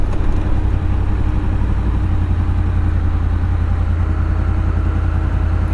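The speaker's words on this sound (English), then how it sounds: "I can really hear the wind noise" Steady, loud wind roar mixed with a low engine drone while riding a 2002 Honda VFR800 sport-touring motorcycle without earplugs, continuous and unbroken with no talking.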